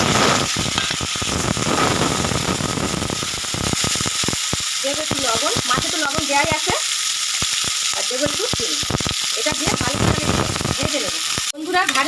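Red capsicum and onion frying in oil, a loud dense crackling sizzle throughout with a voice talking over it in the middle.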